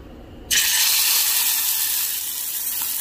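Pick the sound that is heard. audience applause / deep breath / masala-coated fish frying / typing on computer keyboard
masala-coated fish frying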